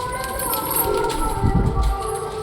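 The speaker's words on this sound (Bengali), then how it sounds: "এদিকে দেখো আমাদের চিকু কালা সবুজের পেছনে ডাকছে" A pet pigeon coos softly nearby, a low, brief throaty call rising midway through amid faint background hum, with no clear speech.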